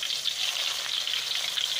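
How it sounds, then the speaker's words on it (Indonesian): Sliced plain tempeh, prepared Minangkabau style without flour, frying in preheated oil with a steady, dense sizzle and crackle that runs unbroken throughout, close and alone with no voices. "Setelah diiris-iris, langsung saja kita goreng tempe"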